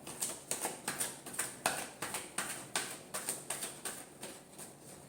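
Tarot cards being shuffled by hand, a quick series of soft papery riffles and taps repeating in a steady rhythm, close and fairly quiet with no talking.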